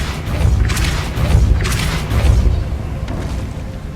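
Depulso force spell cast in Hogwarts Legacy, a deep booming blast that swells three times in quick succession, loud and close with a rushing, airy tail.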